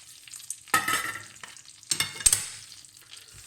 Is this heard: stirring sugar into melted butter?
yes